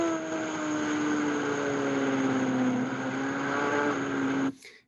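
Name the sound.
Suzuki GSX-R motorcycle engine at light throttle through corner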